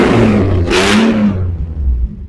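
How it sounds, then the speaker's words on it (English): A BMW E46 Touring drift car revs hard through a very loud exhaust, a close, roaring burst that rises sharply then drops back to a rumbling idle. "Yeah, that's extremely loud. That sounds fantastic."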